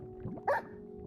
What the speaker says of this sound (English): Hello, doggy. Pat, pat,